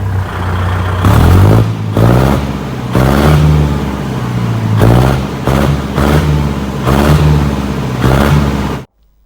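Kubota L4018 or L5018 tractor fitted with an open, unmuffled exhaust pipe, its engine revving repeatedly in loud rhythmic bursts of about one second each over a steady idle. The sound cuts off abruptly at the end.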